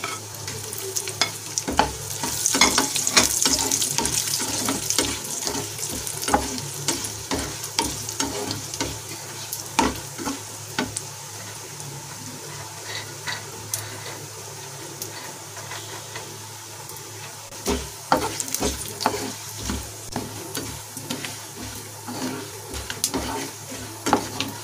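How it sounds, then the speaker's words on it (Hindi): Almonds roasting in a pan for dhania panjiri, with a continuous sizzle and frequent sharp clicks and scrapes from stirring, close-up with no talk. "अब मैं बादाम को भी रोस्ट कर लूंगी।"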